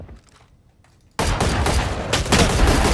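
Dense, loud gunfire from Raze in a tactical shooter match, bursting in abruptly after a quiet start and continuing as a sustained rapid volley with close, overlapping shots.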